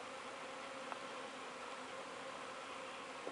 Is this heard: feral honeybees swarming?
yes